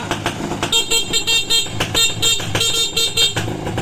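Vehicle horn tested on a freshly wired electrical system, a series of short repeated honks in a quick rhythm, close and fairly loud over faint background noise.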